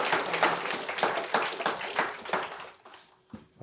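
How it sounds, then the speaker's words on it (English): A lecture audience breaks into clapping, a dense burst of many hands that tapers off and fades into quiet over a few seconds. "Round of applause for Colette"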